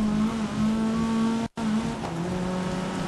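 A small car's engine in the GRID racing game holds a steady, buzzing drone as it revs, cutting out for a split second mid-shift before droning on, loud and close with no voices.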